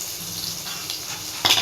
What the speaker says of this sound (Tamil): அடுத்தது பூண்டு நசுக்கி வச்ச பூண்டு போடுறேன்.